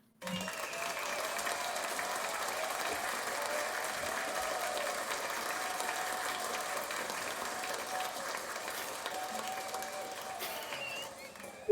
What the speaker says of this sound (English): It was a very, very long applause there